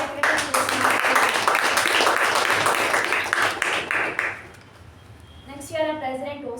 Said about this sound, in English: let's give a huge round of applause to our secretary